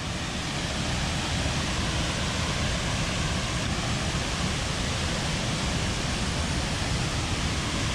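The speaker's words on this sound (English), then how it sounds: "You don't want to be crushed by those waterfalls crushing into your body." Haew Suwat Waterfall in Khao Yai National Park, Thailand, a dense, constant roar of crashing water heard close and fairly loud, unbroken for the whole stretch with no voices.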